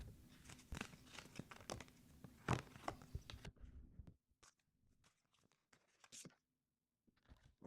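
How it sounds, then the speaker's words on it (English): Oracle cards being shuffled by hand, a soft, close riffling and papery crinkle for about four seconds, followed by quieter scattered taps and handling noises. "now let's go ahead and pick some oracle cards. So I'm just going to go ahead and shuffle"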